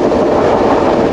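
Continuous loud rumble and rattle of a Rocky Mountaineer passenger train rolling along the rails at speed, heard close and steady with no talk.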